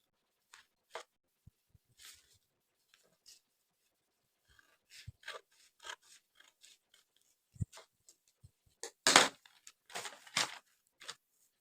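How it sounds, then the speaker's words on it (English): Fabric being cut with scissors to shape a slanted square neckline for dressmaking, heard as a series of sharp, close snips at irregular intervals that grow denser and louder toward the end, with no talking. "So now let's cut."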